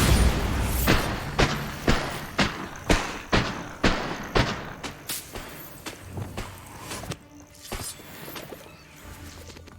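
Repeated blasting-spell explosions in the Hogwarts Legacy video game, a run of about a dozen sharp, booming impacts in a steady rhythm that gradually fade in loudness, followed by a few scattered thuds.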